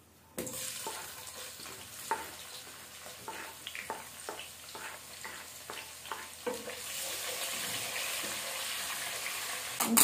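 Oil frying in a pot for goat meat and fish stew. A continuous bubbling sizzle runs under a series of sharp scraping and clinking strokes from stirring, and the hiss swells louder toward the end.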